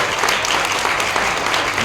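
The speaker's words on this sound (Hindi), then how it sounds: "पूरा ताली बजाकर स्वागत किया जाए करते हैं।" Dense applause from an audience at a ceremony at Pipra railway station, a steady wash of clapping filling the whole stretch at moderate loudness with no clear voices over it.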